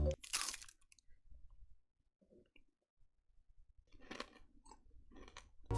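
A crunchy Cadbury honeycomb bar coated in chocolate is bitten and chewed close up: a loud crisp crunch at the start, a quiet pause, then a second run of crackly chewing bursts.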